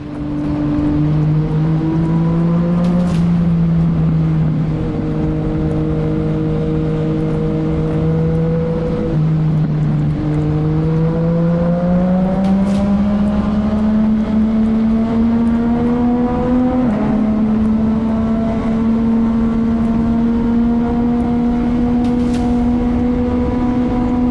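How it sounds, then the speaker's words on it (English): A Yamaha MT-09 motorcycle engine revs hard at full throttle, a loud continuous close-up drone whose pitch climbs in stages with shifts between them, running unbroken for over twenty seconds with no talking. "open the throttle and let the engine scream"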